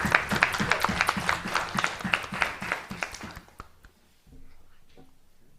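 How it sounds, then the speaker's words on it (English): Applause at a student council meeting, a modest scattered round of clapping that tapers off after a few seconds, leaving quiet room noise and faint movement. "One more round of applause for everyone that makes what council is council."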